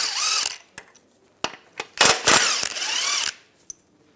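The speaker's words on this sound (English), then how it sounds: "Using a 16 millimeter socket, take these out." Socket wrench backing out 16 mm bolts on the front suspension of a 1998-2010 Volkswagen Beetle, with sharp metallic clicks and clanks around a couple of bright ratcheting runs, close up.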